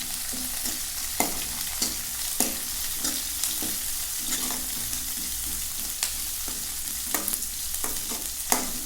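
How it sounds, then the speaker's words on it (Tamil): Onions sauté in hot oil in a pan with a soft constant sizzle, while a spatula taps and scrapes the pan in a steady, repeated stirring rhythm up close. "கொஞ்சம் வெங்காயம் நல்லா வணங்கட்டும்."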